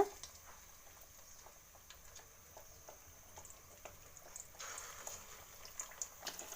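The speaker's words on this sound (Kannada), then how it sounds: "ಎಣ್ಣೆ ಕಾದಿದೆ. ಫ್ರೈ ಮಾಡ್ಕೊಳ್ಳೋಣ. ಗೋಲ್ಡನ್ ಕಲರ್ ಆಗೋ ತನಕ ಫ್ರೈ ಮಾಡ್ಕೊಳ್ಳೋಣ." Chicken nuggets fry in hot oil with a faint, soft crackle and scattered pops that grow busier toward the end.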